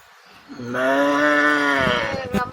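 A cow gives one long, close, tonal moo that swells and then fades, with a brief rustle just after it.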